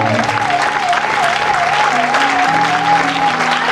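Church congregation applauding continuously, a loud, dense wash of clapping from many hands, with a sustained tone from music or singing running beneath it.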